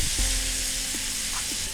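Whole cluster beans (guvar) hit hot oil in a pan, giving a steady, close sizzle that holds evenly for the short stretch, with a few faint stirring taps and no voices.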